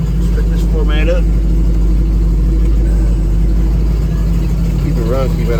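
A 1972 Chevrolet El Camino sits idling with the air conditioning running, a loud, steady low engine drone filling the whole stretch, with a voice briefly audible over it now and then.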